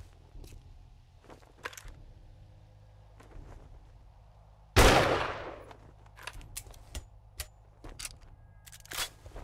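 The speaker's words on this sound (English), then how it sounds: "I'll shoot her in the ass and get her to come back this way." A single loud gunshot rings out in the survival game 7 Days to Die, sharp and close, standing out from quiet clicks and ambient game noise.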